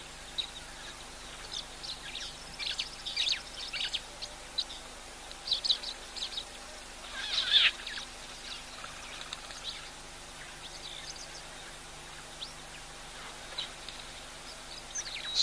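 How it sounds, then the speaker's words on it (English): Scattered high chirps and harsh squawking calls from starlings at a waterhole, coming in irregular bursts with quiet gaps between them, at a moderate distance. "Squawking sounds, I'm assuming, are the starlings."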